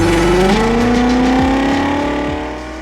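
A W8 engine built from two VR4 engines on a common crank, fitted in a family car, revs loudly and close, its pitch climbing in a smooth sweep before easing off as the sound fades slightly at the end.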